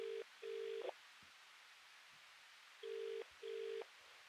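A payphone is dialed in an audio drama: two pairs of clean electronic keypad tones, each pair a quick double beep, separated by a short quiet pause, crisp and close.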